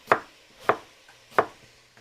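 New potatoes are diced with a knife on a cutting board, three crisp evenly spaced chops about half a second apart, close and distinct against a quiet background.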